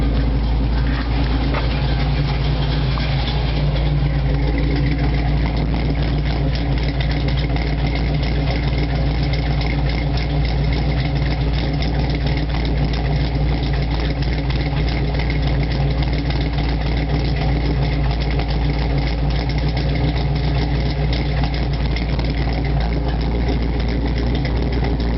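A Jeep 4x4 mud truck engine with MSD Atomic EFI idling while hot, giving a steady, close, loud rumble with an even low throb that holds unchanged throughout.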